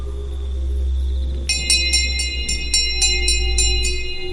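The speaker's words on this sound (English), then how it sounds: "The bell attached to the copper tubing was ringing violently." A bell fixed to copper tubing at a graveside in a cemetery rings in rapid, evenly spaced bright strikes over a low steady hum, close and loud.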